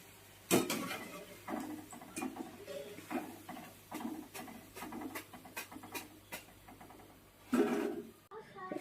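Fried jackfruit stem chips are scooped out of a pan, with repeated metallic scrapes, clinks and rattles of a ladle against the pan, close and fairly loud, while a voice talks over them.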